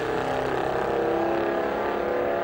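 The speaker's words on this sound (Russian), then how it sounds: "Могучий двигатель AMG здесь борется в том числе с возможными сносами." Mercedes-AMG engine of a Formula 1 safety car lapping the circuit during 2009 Brazilian Grand Prix qualifying, a steady loud drone with traction control cutting in, sustained throughout with no talk.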